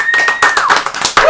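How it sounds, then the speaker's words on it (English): A few people clap in a quick, close burst of separate hand claps, with a whistling tone sliding through in the background. "Everyone give him a round of applause for Dabu."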